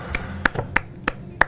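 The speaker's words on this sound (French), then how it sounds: "Et je m'applaudis en avançant aussi." Five sharp hand claps ring out at an even, brisk pace, close and clear, each a crisp slap over quiet background.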